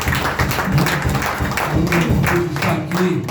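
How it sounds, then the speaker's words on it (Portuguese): A church congregation claps together, dense steady applause filling the room with a few voices mixed in, close and fairly loud throughout. "Vamos aplaudir Jesus pela vida."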